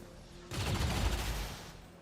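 Burst of rapid gunfire in the video game XCOM 2, a loud dense volley starting abruptly after a brief quiet moment and sustained for about a second before fading.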